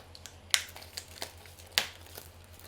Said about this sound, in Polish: O, idzie folia.